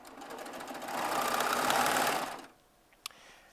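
A Baby Lock serger runs steadily, chaining jelly roll strips together lengthwise, a loud continuous mechanical whir that swells, stops abruptly, then leaves a quiet room with a single small click.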